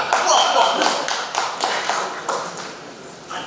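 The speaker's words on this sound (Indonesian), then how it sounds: "Tepuk tangan orang, plok." An audience at an Islamic sermon gathering breaks into scattered clapping, a run of sharp, irregular claps that swell and then thin out over a few seconds in a reverberant hall.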